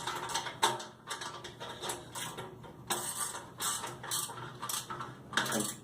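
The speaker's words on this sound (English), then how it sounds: "And now we'll tension up the 4 bolts on the top." Top bolts being tightened to tension the chains on a GRIT Freedom Chair, heard as a run of close, dry ratcheting clicks in bursts, the tool's pawl clattering repeatedly with short pauses, no talking.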